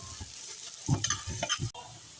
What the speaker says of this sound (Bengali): আমি এখানে পেঁয়াজ কুচিগুলো দিয়ে দিব